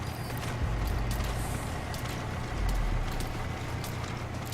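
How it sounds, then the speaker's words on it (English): A heavy truck in Metal Gear Solid V: The Phantom Pain rumbles steadily at close range, its engine noise broad and continuous, with a faint hiss and clatter on top. "I hear a truck."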